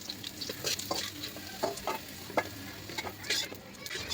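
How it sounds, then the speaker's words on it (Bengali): Chillies and garlic sizzle in hot oil in a wok, crackling steadily while a spatula stirs them in short, irregular scrapes, close and moderately loud. "লঙ্কাগুলো একটু ভালো করে ভেজে নিতে হবে"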